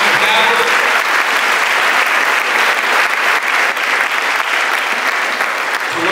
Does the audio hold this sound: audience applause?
yes